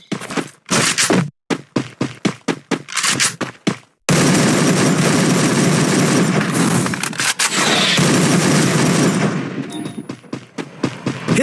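Gunfire in a mobile shooter video game during a solo-versus-squad match, first as separate sharp shots with short gaps between them, then as a long, loud, dense burst of continuous firing.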